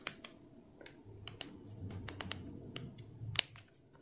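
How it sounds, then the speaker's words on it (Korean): Scissors snip through plastic canvas for a leather-look bag in a string of crisp, close clicks, unevenly spaced over a low steady hum, with no talking. "여기 표시해 놓은 왼쪽으로 또 똑같이 잘라줍니다"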